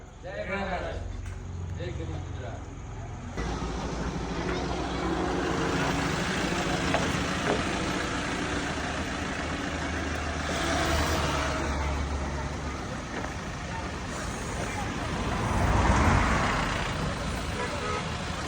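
A truck arriving at a farm, its engine and road noise rumbling near and building over time, with a louder surge late on, while people talk over it.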